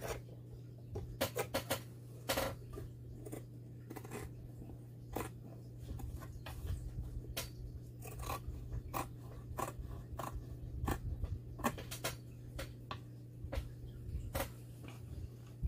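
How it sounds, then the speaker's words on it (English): Scissors snip along the edge of a decoupaged recipe box, a long run of crisp, closely spaced cuts over a steady low hum, near and fairly loud, with no talking. "now I'm just going to cut this edge here"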